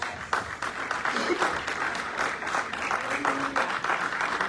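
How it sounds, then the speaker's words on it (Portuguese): A church congregation applauds during a worship service, steady dense clapping filling the room with some voices mixed in beneath it. "Aplauda ao Senhor Jesus"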